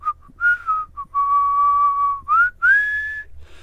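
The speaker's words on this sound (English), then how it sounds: "He strolled off, whistling." A man whistles a short, clear melody as he strolls away, bright sustained notes with sliding pitches, close and alone over a faint low hum.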